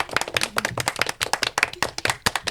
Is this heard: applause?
yes